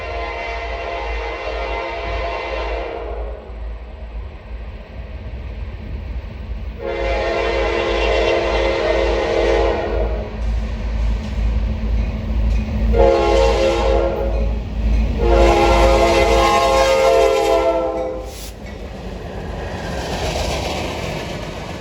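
A Norfolk Southern C42 local freight, led by a GP38-2 on the Pittsburgh Line, rumbles past on a low, continuous roll while its horn sounds in four loud blasts, the last long, fairly close and with no talk.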